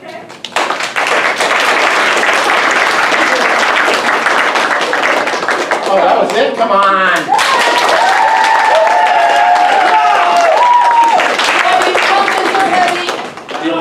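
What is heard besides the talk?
audience applause at improv comedy show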